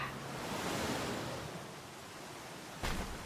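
Waterfall in the video game Dragon Quest 8, a steady rushing water roar that swells early and holds, ending with a brief louder burst.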